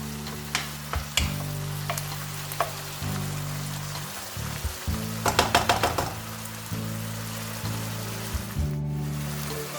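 Chicken pieces frying in a pan for chicken pasta: a steady, close sizzle runs throughout, broken by repeated knocks and scrapes of a utensil stirring against the pan.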